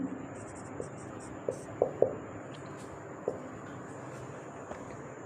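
Pen or chalk writing out a maths solution for a class 8 algebra lesson, faint scratchy strokes with a few soft taps against a steady low background hiss, and no talking.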